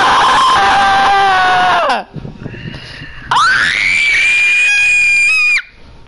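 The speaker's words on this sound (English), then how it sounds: "nobody ignore that high pitched scream I just did" A person lets out a loud, high-pitched scream, one long shrill wail that cuts off, a short lull of noise, then a second sustained piercing shriek rising even higher before stopping abruptly.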